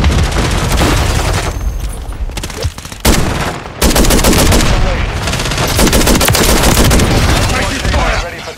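Automatic and single-shot gunfire in Call of Duty: Modern Warfare III on the small Shipment map, with loud sustained bursts and booms. It runs nearly the whole time, broken by a brief lull, and voice callouts sound under it.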